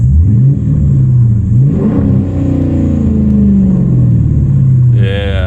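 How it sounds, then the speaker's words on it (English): A Dodge Challenger R/T with a straight-piped exhaust revs up and falls back several times, a loud, close, deep engine roar rising and sinking in smooth sweeps. "Yeah, that's what a muscle car is supposed to sound like."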